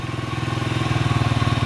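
A Skygo King 150cc motorcycle engine runs steadily while its carburetor is tuned for lean or rich mixture, giving a close, rhythmic pulsing idle that grows slightly louder and firmer toward the end.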